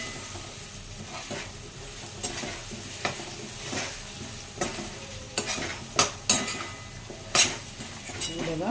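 Potatoes stirred through hot oil and spices in a pan for a Bhogi vegetable dish: a low steady sizzle under repeated scraping strokes and sharp metallic clinks of a spoon against the pan, growing louder toward the end.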